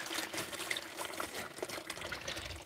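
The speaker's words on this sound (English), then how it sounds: "maybe you can hear my fountain." Garden fountain water trickling steadily beside a fish pond, a continuous soft splashing and dribbling wash that stays at an even, moderate level throughout without any voices.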